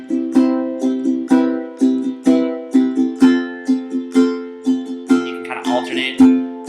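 Strummed chords ring out in steady eighth notes, a regular run of bright, evenly spaced strokes with sustained harmonics, heard alone up close with a slightly busier final beat.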